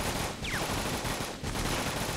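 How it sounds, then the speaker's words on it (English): Gunfire in the video game 50 Cent: Bulletproof, a steady dense stream of automatic shots under a noisy game mix, with no pauses. "They over here shooting."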